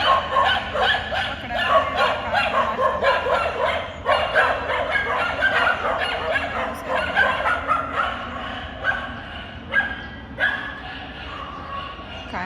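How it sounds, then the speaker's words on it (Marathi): Several dogs in a residential housing society bark repeatedly from a distance, heard from a balcony, with overlapping yips and whimpers forming a continuous noisy chorus. "कुत्री इतकी भुंकत होते ना"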